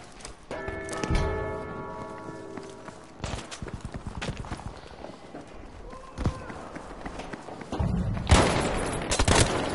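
A bell rings in a Battlefield game with sustained metallic tones early on, mixed with clattering hoof-like thuds and gunfire bursts in a busy, loud soundscape.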